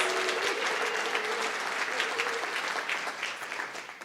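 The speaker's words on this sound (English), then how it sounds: "Give yourself a round of applause." Applause from a building full of educators at a morning kick-off event, a dense steady clapping that fills the room for several seconds and tapers slightly toward the end.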